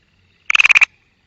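A Karawalis frog gives a single short call: a rapid burst of about seven loud, close pulsed notes lasting under half a second, then silence.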